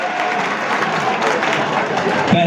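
Dense, sustained applause from an outdoor kabaddi match crowd in India, many hands clapping steadily and fairly loud with no clear pauses.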